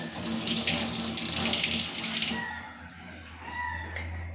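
A kitchen tap runs steadily while betel leaves are rinsed under it. The rushing splash is loud for about two seconds, then drops to a softer trickle and a background hum.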